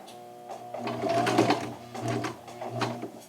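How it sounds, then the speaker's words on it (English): A sewing machine stitches fabric for a slim fit shirt, running close and loud in short bursts with a steady mechanical whir and rhythmic needle chatter, pausing briefly between runs. "And do a double starting stitch."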